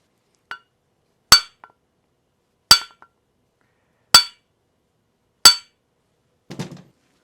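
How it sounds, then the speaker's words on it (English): Four sharp metallic strikes of a brass hammer on the crankshaft end of a Polaris Sportsman ATV engine ring out at steady intervals, each with a brief ringing tail, followed by a softer rattling clatter; no talking. "That's where the brass hammer comes in handy. We can hit one side and twist it without damaging the crank."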